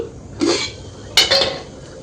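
A steel plate used for making papad is lifted down and set aside, giving two quick close metallic clinks and scrapes about half a second apart, with no talk.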